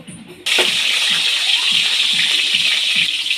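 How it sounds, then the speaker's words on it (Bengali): Potatoes hit hot oil in a pan and burst into a loud, close sizzle that starts suddenly and then holds as a steady crackling hiss. "এপাশে তেলটা গরম হয়ে গেছে। এবার আমি আলুগুলো ভেজে নেব।"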